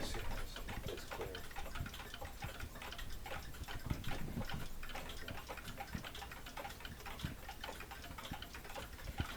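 A mantle clock movement on a repair bench, an older customer's clock, ticking in a steady, even rhythm of close, crisp clicks over a faint background hiss.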